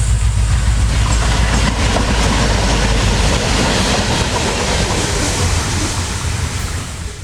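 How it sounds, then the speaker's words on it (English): A Brightline construction work train led by two engines rumbles past on double-track work north of West Palm Beach, Florida: a loud, continuous low roar with wheel clatter that holds steady and begins to ease near the end, with no voices. "I'm sitting in my car and I hear this rumble. I look up and I see 2 engines in a car head toward me."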